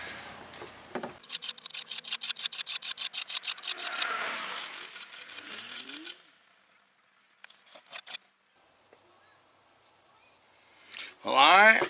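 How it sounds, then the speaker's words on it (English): Metal file rasping along the bevel of an old rusted axe head bought at a yard sale, a rapid run of rhythmic scraping strokes, then scattered scrapes and a short voice at the end. "we're going to file this bevel on out just a little bit on both sides"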